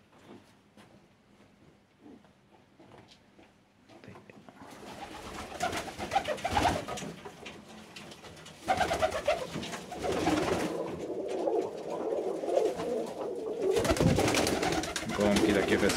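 Crested pigeons kept in a breeding loft coo steadily at close range, layered calls that swell and continue throughout, with a faint voice early on and bird movement mixed in.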